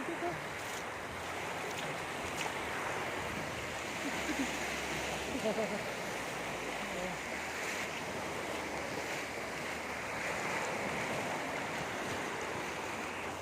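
Surf rolling onto Lingayen beach in Pangasinan, a steady broadband wash of breaking waves with some wind across the microphone and no voices.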